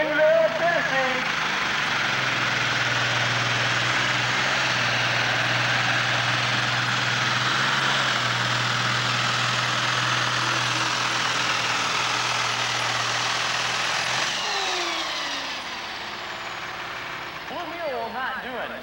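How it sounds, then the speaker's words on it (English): A Ford pulling tractor from Enville, Tennessee runs at a 1996 tractor pull in Madisonville, Kentucky, a loud, steady engine roar with a deep low drone that holds for about fourteen seconds, then drops off, with faint crowd and announcer sounds after. "And Ford fans, I know you're out there. You've seen this tractor run here before."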